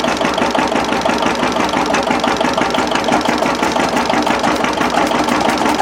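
A 2022 Bessemer vertical stationary engine, left unstarted for over a year, runs steadily with a fast, even mechanical chugging and clatter, loud and close, with no voices.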